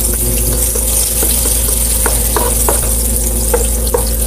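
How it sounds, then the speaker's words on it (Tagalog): Onion and garlic sauté in a pan in a loud, steady sizzle, with occasional stirring scrapes and clacks over a constant low hum, close up and with no talking. "igisa po natin ang sibuyas at bawang"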